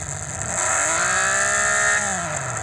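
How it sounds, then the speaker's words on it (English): A simulated Porsche engine from an Android engine sound app revs in neutral, pitch climbing smoothly to a loud sustained rev and then dropping back, heard alone and close. "So let me do some revs here."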